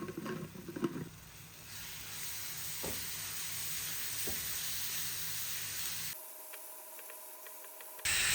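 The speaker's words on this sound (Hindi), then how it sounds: "अब हम इसमें डालेंगे 2 टेबलस्पून्स अदरक लहसुन पेस्ट और इसको अच्छे से भुनेंगे" Ginger garlic paste sautéing among golden fried onions gives a steady mid-level sizzle and hiss that runs unbroken for about six seconds, with a few soft stirring knocks early on, then drops to a thinner, quieter sizzle before swelling again at the end.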